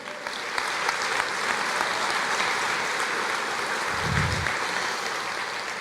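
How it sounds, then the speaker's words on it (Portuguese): A church congregation claps steadily in dense, even applause throughout, with a brief low rumble partway through. "Você pode aplaudir o Senhor?"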